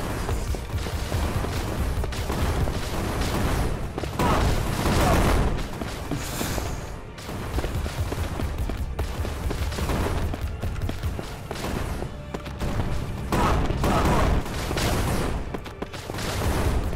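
Sustained gunfire from a defense turret in the video game Crystal Defense, dense overlapping shots and booms rolling on continuously at high volume, with occasional voice sounds mixed in.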